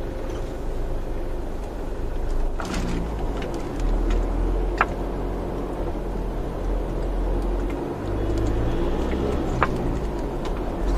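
A steady low rumble of road and engine noise fills the cabin of a 2015 Toyota Innova with about 115,000 km while driving, with faint occasional clicks and no talking.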